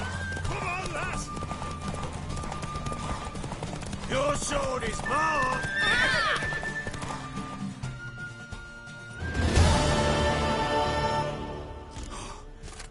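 Galloping horse in a race in The Witcher game, steady hoofbeats with neighing and whinnies, while characters shout and talk over it; a louder burst near the finish.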